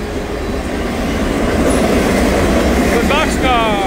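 A freight train thunders past at close range at speed, a loud steady roar of wheels and boxcars at night, with brief squeals of metal near the end.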